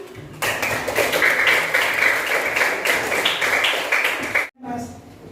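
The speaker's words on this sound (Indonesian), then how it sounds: "tepuk tangan." A primary-school class claps together indoors, a lively burst of many hands lasting several seconds, loud and close, ending sharply, with a brief voice afterwards.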